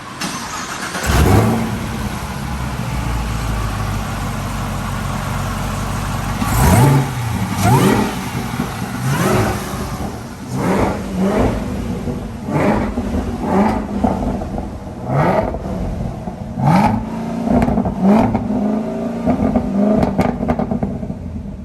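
Chevrolet Camaro ZL1 engine revving repeatedly while driving, with stock intake, loud and close from inside the car, a steady drone broken by a series of sharp throttle blips in the second half.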